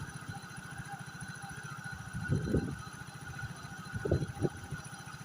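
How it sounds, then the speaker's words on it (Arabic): A motorcycle engine idling, a steady low chugging rumble close by, with two brief surges of rougher, louder firing partway through. "الموتور ديالي ما كيقطعش مزيان، مازال مزيان"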